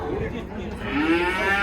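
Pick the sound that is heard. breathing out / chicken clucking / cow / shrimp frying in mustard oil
cow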